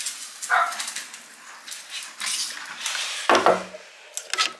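A pet dog at home barks in short, sharp bursts, with one bark early and a louder one later, amid scattered household clatter and no speech.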